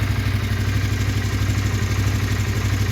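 An original black Honda CBR 150 motorcycle engine idles steadily up close, a continuous low rhythmic chugging with light mechanical clatter, no voices over it.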